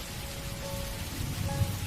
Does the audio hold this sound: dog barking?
no